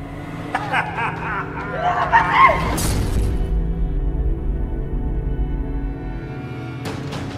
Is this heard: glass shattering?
yes